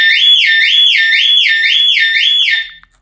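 A piercing electronic Volvo S60/V70 car alarm siren, heard inside a garage, sweeps rapidly up and down in a steady repeating whoop, loud and close, cutting off abruptly near the end.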